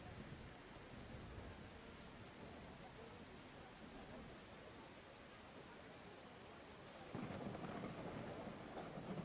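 Thunderstorm rain in the video game I Am Jesus Christ, a steady faint wash of rainfall with low rumbling that grows a little stronger near the end, with no clear voices.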